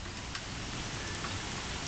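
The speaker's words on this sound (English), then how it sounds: "The second round of rain is coming." Steady rain falls outdoors in Smyrna during a second round of flooding storms, a continuous soft hiss with scattered drop ticks, fairly faint and without voices.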